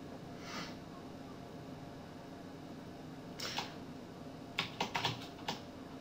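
Quiet computer keyboard typing: a few isolated key taps, then a quick cluster of clicks near the end over a faint room hiss.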